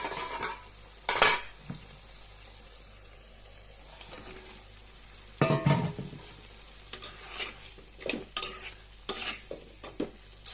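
Shrimp frying in oil for a Bengali shrimp bhuna, stirred in a pan: a faint sizzle underneath, broken by sharp scraping and clattering stir strokes in irregular bursts, with no talk.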